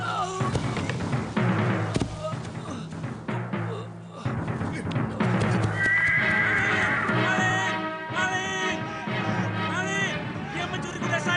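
A horse neighs and whinnies repeatedly, close and fairly loud, over a busy layered background with voices and other activity mixed in.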